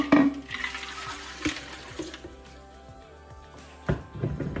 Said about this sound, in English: 5 cups of water goes in